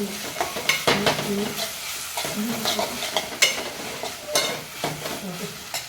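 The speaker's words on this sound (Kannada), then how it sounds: "ಜಿಂಜರ್ ಗಾರ್ಲಿಕ್ ಪೇಸ್ಟ್ ಹಾಕೊಂಡಿದ್ದೀನಿ ಪೇಸ್ಟ್ ಹಾಕೊಂಡು ಸ್ವಲ್ಪ ಫ್ರೈ ಇದ್ದೀನಿ" Ginger garlic paste fries in a pan for a prawn pulimunchi, giving a continuous crackling sizzle broken by repeated scrapes and stirs of a spoon every second or so; no talking.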